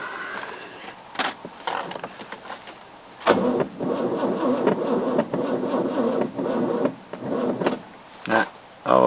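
A cold Datsun car engine cranks and fires on choke in short, uneven bursts, catching briefly several times before faltering and stalling, close and fairly loud.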